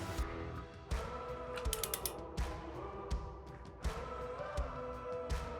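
Ratcheting clicks of a torque wrench tightening the front wheel axle of a motorcycle fitted with a 21-inch chrome ribbed spool hub wheel on a 39mm fork, repeated close mechanical clicks and creaks with no talk.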